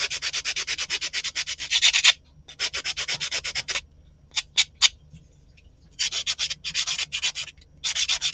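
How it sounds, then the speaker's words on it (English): Rhythmic back-and-forth sanding strokes on a small miniature piece, close and steady in bursts with short pauses between sets, no talking. "instead of cutting, because it's not so tight, I'm just going to sand it down a little bit."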